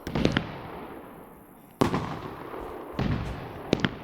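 Fireworks burst in the video game Firework Mania, with a sharp crackling volley, a sudden loud blast that trails off, and further crackling pops, all close and loud with no talking.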